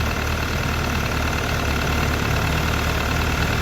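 A 2013 MV Agusta F4 sport motorcycle engine runs steadily close by, a continuous loud engine drone with no one speaking.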